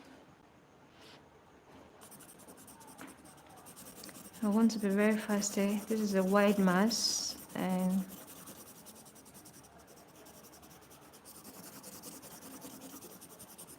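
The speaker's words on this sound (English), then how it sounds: "you work with the side of your colored pencil" Colored pencil is worked on its side across paper to shade a sweater, producing soft, rapid, scratchy strokes in a short burst while someone keeps talking over it.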